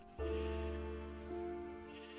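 One bleat from a Minecraft sheep: a single loud, close, wavering cry that lasts nearly two seconds and then fades out.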